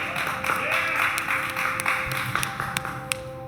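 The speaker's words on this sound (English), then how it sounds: "Let's all give them a round of applause." An audience claps after a live set by a band, with scattered, fairly soft claps and sharp individual hand smacks standing out, while a voice speaks over it.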